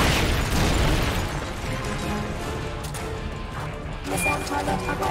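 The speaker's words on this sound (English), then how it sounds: "They're about to commence the requested supporting fire." Supporting-fire explosions in the video game Metal Gear Solid: Peace Walker, a dense barrage of crashing blasts and rumbling booms that keeps going throughout, loud and continuous, with a few swelling bursts near the end.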